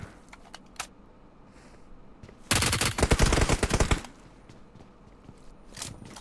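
Gunfire in the BGMI mobile battle royale game: a dense burst of rapid automatic shots lasting over a second, loud against a quieter background with scattered clicks and taps before and after.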